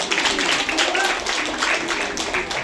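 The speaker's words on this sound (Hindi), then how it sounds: "भाई इंदु के लिए जोरदार तालियां बजनी चाहिए।" Dense, steady clapping fills the room as an audience of blind women applauds a participant named Indu, a continuous wash of close handclaps with no gaps.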